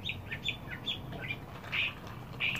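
Several small birds chirp in short bright bursts throughout a residential neighborhood, scattered calls rising above a low background rumble, with no talk.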